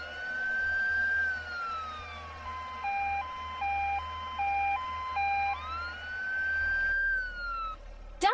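An ambulance siren in a children's vehicle video game wails up and down, switches to a steady two-tone hi-lo pattern, then returns to a rising and falling wail, loud and close with no talking.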